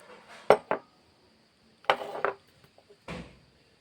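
Rice flour being added to a bowl while making an okra fry, with a few sharp clinks and knocks of a utensil against the bowl in separate bursts, close and moderately loud.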